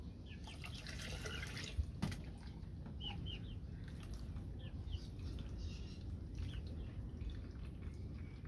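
Water pouring and dripping through a strainer into a pot while making fresh corn atole, a steady trickle with a few drips and distant rooster calls in the background.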